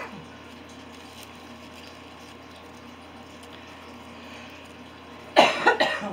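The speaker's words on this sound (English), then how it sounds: "I have not been able to drop this cough from when I had my cold." A short burst of lingering cold cough near the end, loud and close after several seconds of quiet room noise.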